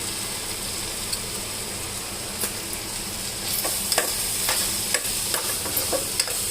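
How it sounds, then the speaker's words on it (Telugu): Mutton keema frying in oil with gongura leaves, green chilies, chili powder and coriander powder, a constant close sizzle with occasional sharp stirring clicks from a spoon against the pan, no voices. "కారం, ధనియాల పొడి, మటన్ ఇవన్నీ నూనెలో వేగితేనే టేస్ట్ వస్తుంది."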